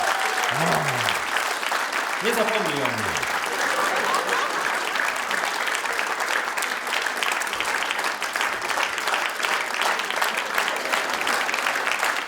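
Sustained audience applause at a cabaret comedy show, steady and fairly loud throughout, with a few brief spoken words and a short sung phrase near the start.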